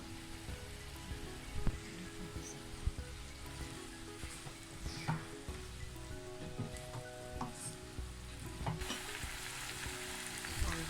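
Tomatoes and tamarind frying together in a pan for tomato chutney, a continuous crackling sizzle with repeated spatula scrapes and knocks throughout, fairly quiet and close, no voices.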